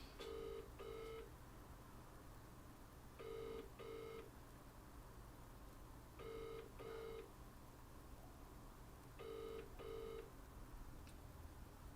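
A telephone ringing tone repeats in double bursts, four rings spaced evenly apart, heard faintly through a line with background hiss.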